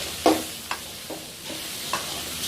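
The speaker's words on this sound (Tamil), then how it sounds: "இட்லியை சேர்த்து நாம் வதக்கின தக்காளி வெங்காயத்தோட ஒன்றா கலக்கிற மாதிரி நல்லா மிக்ஸ் பண்ணி விட்டுருங்க" Masala idli is mixed in a pan with sautéed tomato and onion: a few separate scraping stirs over a soft steady sizzle, close up, with no talk.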